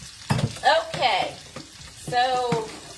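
Onions caramelizing in a frying pan for Southern greens, with a soft sizzle and several stirring scrapes in uneven bursts, close and moderately loud, with no talk.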